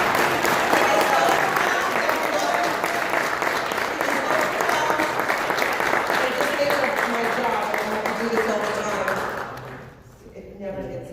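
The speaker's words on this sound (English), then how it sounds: "So you have to give him a huge round of applause." Audience applause at a Sri Lankan Independence Day celebration in New York City, dense sustained clapping from a large crowd that holds steady for about nine seconds, then fades out abruptly.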